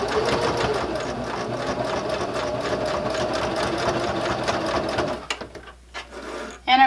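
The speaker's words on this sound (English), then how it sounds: "I'm going to stitch across my stitching line and then back stitch to secure it." Sewing machine top stitching and back stitching a fabric cover for a bag handle, running steadily and loudly for about five seconds before stopping, followed by a few faint handling clicks and a brief final burst.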